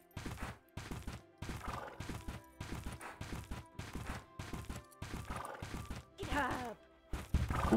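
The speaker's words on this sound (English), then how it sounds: "I don't know why my horse is a little slow." Horse in the Bella Sara video game, with rhythmic galloping hoofbeats in repeated bursts and a whinny near the end, loud and close with no talking.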